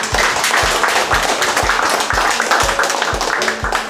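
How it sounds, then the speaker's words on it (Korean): Audience applause at a year-end civil society review gathering in Korea, a dense, steady wash of clapping from a crowd in a hall, continuous and close for a few seconds with no talk over it. "함께 박수로 격려해 주시기 바랍니다"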